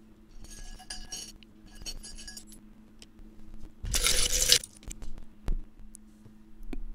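Small Murano glass pieces clink and rattle together as they are shuffled for a drawing, with scattered light taps early on, then a dense burst of clattering in the middle followed by a few sharp isolated clinks, close and fairly loud.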